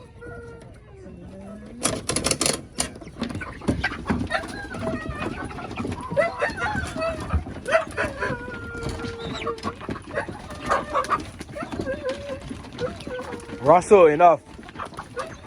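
Backyard chickens, including a small chick and young cockerels, cluck and call in scattered bursts as they are let out of the coop, with a person talking throughout and a louder squawking flurry near the end.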